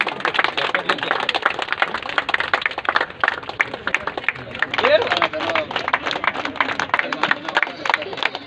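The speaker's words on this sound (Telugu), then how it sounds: "గట్టిగా చప్పట్లు" A crowd at a free mega medical camp inauguration claps loudly, dense overlapping applause lasting several seconds, with voices mixed in.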